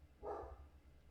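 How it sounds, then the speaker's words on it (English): A single short dog bark sounds faint and muffled, as if from another room, over a low steady hum. "my dog starts barking at I don't know what, the mailman"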